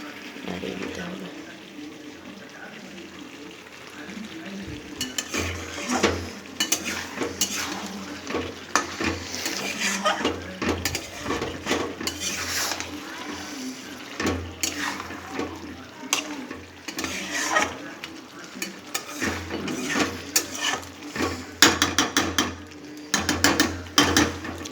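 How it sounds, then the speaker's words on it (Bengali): Spiced chicken curry with potatoes stirred in a pot, a spoon scraping and clattering repeatedly against the metal over a low background sizzle, with the lid taken off and moved; no talking. "এরকম আস্তে আস্তে করে কষাতে হবে, বারবার ঢাকা খুলে নাড়িয়ে নিতে হবে"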